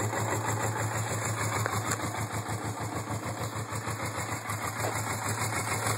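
A 1980 Suzuki GS450 S motorcycle engine idles steadily while still not fully warmed up, a close, even pulsing thrum with a low hum throughout and no voices.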